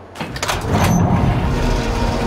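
Truck trailer doors opening in Farming Simulator 22, a loud sustained mechanical rumble and sliding whoosh with a brief metallic squeal, no talking.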